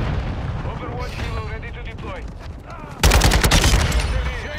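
RPK machine gun fire in Modern Warfare 2, mixed with other game sounds at first, then a loud burst of rapid automatic shots erupts in the final second and a half.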